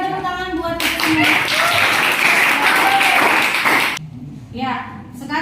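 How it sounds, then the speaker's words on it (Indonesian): Schoolchildren applauding in a classroom at the end of a science lesson, a loud burst of clapping lasting about three seconds, with a teacher talking before and after it. "berikan tepuk tangan buat kita semua"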